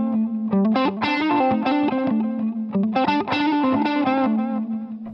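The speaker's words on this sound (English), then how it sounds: "So hammer-on with the pinky sounds like this." Electric guitar with distortion and chorus effects plays a quick lick using pinky hammer-ons, two fast phrases of rapid notes, loud and close, with no talking.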